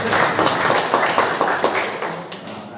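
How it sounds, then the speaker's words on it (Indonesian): Audience at a Muhammadiyah gathering applauding, a loud, dense round of hand clapping that swells briefly and then gradually fades out. "Sekali lagi aplaus kesehatan buat kita semuanya"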